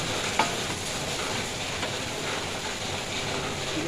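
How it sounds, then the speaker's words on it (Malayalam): Yogurt goes into a curry in a pan, giving a soft continuous sizzle and stirring hiss with a faint clink, fairly quiet and without voices. "ഇനി തൈര് ഒഴിച്ചു കൊടുക്കട്ടെ."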